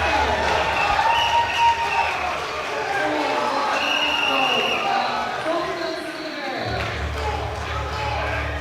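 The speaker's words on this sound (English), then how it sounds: "Oh, the crowd's feeling this one." Crowd at a European Open Classic Powerlifting Championship roaring and cheering as a lifter attempts a deadlift for gold, a steady dense wash of voices and claps under a commentator's voice.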